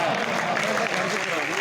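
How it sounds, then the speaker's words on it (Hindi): A live audience applauds during a comic poetry recital (mushaira), giving a short, dense wash of clapping with a voice mixed into it. "आप लोग तालियां बजा रहे हैं"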